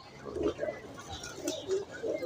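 Dabaz fancy pigeons coo in a loft, giving several soft, low, rolling coos in short, overlapping bursts at moderate distance over a steady background murmur.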